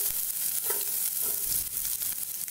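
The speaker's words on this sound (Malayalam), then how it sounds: "ഇനിയിപ്പോൾ നമ്മൾ ഇതിൽ ഈ കട്ട് ചെയ്ത് വെച്ചിരിക്കുന്ന സവാള ഇട്ട് കൊടുക്കാം." Chopped onion dropped into hot oil in a pan for an egg sandwich, giving a continuous close sizzle with soft crackles and light stirring and no talking.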